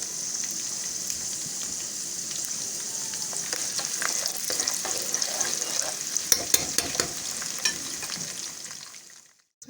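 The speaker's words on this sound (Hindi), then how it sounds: "इसी तेल में हम डाल देंगे प्याज" Onions frying in oil for a kadhi tempering give a steady, close, bright sizzle, with crackles and spatters growing busier toward the end before it cuts off.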